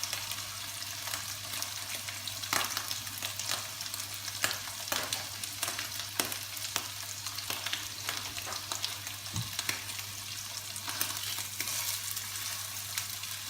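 Beef sizzling and searing in a hot pan with melted fat as it is browned on every side, a steady close frying hiss with occasional sharp crackles and spatters, heard alone without talk.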